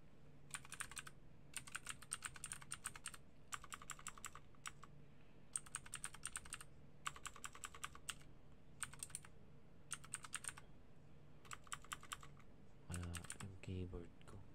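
Keys clack on a computer keyboard in quick bursts of typing separated by short pauses, close and clear, as a password is entered; a brief voice cuts in at the very end.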